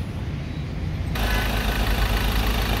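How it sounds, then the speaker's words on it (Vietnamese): A 2016 Mazda BT-50 pickup truck engine idles steadily and loudly up close, a constant low rumble after a quieter start. "Máy đang nổ rất là giòn"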